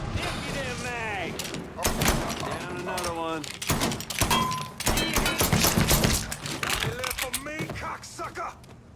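Gunfire during a street shootout in the video game Mafia 3: rapid cracking shots and bursts come in clusters, loud and close, mixed with shouting voices and impacts.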